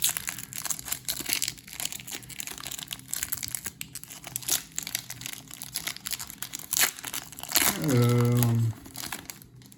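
Foil wrappers of Goddess Story NS-5M06 trading card packs crinkle and tear open up close, loud and continuous, with a person talking over the rustling throughout.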